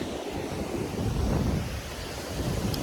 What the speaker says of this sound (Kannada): ಬೀಚು ತುಂಬ ದೊಡ್ಡದಾಗಿದೆ, ಅಲೆಗಳು ತುಂಬ ಬರ್ತಾ ಇದೆ